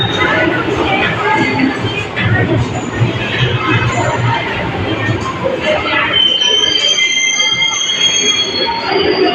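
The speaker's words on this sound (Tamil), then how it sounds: "நம்ம ட்ரெயின் பிளாட்ஃபார்ம் நம்பர் 1 தாங்க வந்திருக்கு" Passenger train pulling into platform 1 at Tirunelveli Junction on the Chennai Egmore to Tiruchendur summer special express, wheels squealing loudly and steadily over constant rumble, with high screeches rising toward the end and faint voices around.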